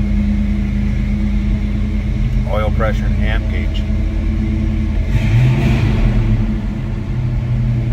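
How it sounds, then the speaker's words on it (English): A 1973 Mercury Cougar XR7 hardtop engine idles with a steady low rumble throughout, while someone talks over it close by. "This car's got a little bit of a rumble to it even."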